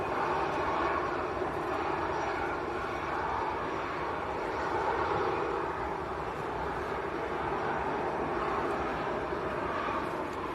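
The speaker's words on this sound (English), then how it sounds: "So it looks like Egypt Air will be the next departure." EgyptAir airliner departing Manchester Airport, a distant, fairly quiet and continuous jet engine roar with no voices.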